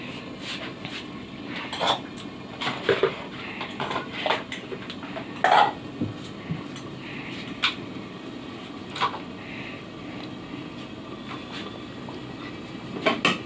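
Metal pot lids and cookware clinking and clattering in a kitchen while chicken cooks, with sharp intermittent knocks and scrapes over a low steady background hiss.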